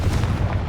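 A single deep, booming fire blast from the Confringo spell in Hogwarts Legacy, loud and close, rolling low for under a second.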